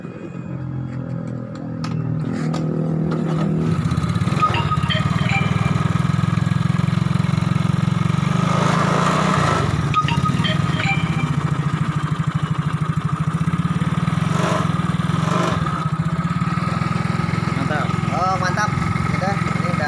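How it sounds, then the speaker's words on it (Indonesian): A Yamaha Mio J motorcycle engine starts and settles into a steady idle after an ECU replacement, running loudly and continuously close by. "Ini udah hidup semua udah jalan, dan udah nyala, mesin udah nyala"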